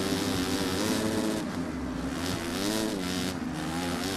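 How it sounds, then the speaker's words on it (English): Motocross bikes race in MXGP 3, a continuous loud engine whine and rumble with pitch rising and falling as the bikes accelerate and shift. "I can hear other bikes"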